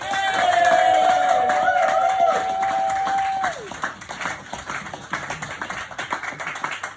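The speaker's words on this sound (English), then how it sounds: "Can we get a big stamping of the feet, clapping of the hands for the wonderful, the one, the only, he's Daniel Lambert." Comedy club crowd at a stand-up night clapping and stamping feet as a comedian is introduced, dense applause under a loud sustained tone that fades out, leaving scattered claps and cheers.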